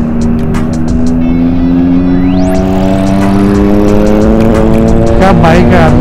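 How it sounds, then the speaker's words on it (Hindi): A GT Interceptor 650 motorcycle rides past on a monsoon ride near Vandri Lake, a loud steady engine drone with rising pitch close by, under wind noise and voices. "तो ये मेरे पीछे बाइक आ रही है"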